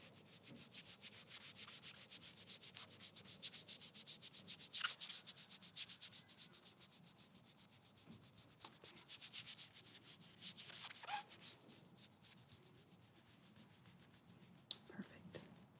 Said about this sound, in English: let me just rub this on your arm here